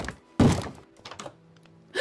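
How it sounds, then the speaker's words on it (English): Banging on a front door in a Minecraft animation: a loud heavy thunk, then fainter knocks and another thud at the end, with no talk over it. "Is that banging? Is that my front door?"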